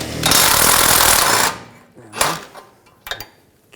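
A 21mm socket on a ratchet or impact tool tightens a ball joint nut on a 2007-2013 BMW 328i front suspension, a loud close buzzing rattle for over a second, followed by a few sharp metallic clicks.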